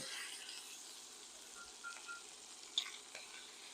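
Beef rouladen rolls browning in a hot pan, a soft steady sizzle with scattered faint crackles and one sharper pop, fairly quiet and close.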